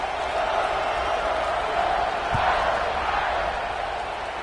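A college football stadium crowd roars before kickoff, a broad, steady wash of distant cheering and noise that swells slightly midway.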